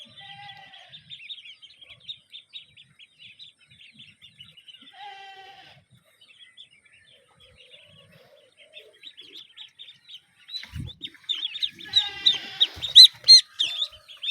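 High, thin peeping calls from a group of young Pekin ducklings raised for meat on a farm, in scattered bursts that thicken into a busier, louder chorus near the end, close by with no talk.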